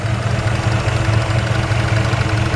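A 1965 Ford F100 V8 with an Edelbrock carburetor, Weiand intake and stock exhaust idles up close, a loud, steady low rumble with an even pulsing beat and no voices.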